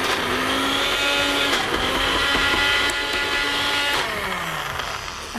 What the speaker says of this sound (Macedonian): Да се знае кога сме користеле блендер.